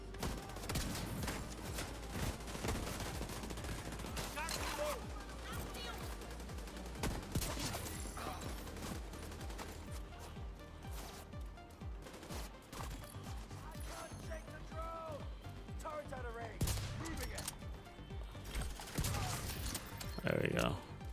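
Gunfire in the video game The Division 2 crackles in dense, rapid bursts with shots and impacts throughout, mixed low under other game sounds.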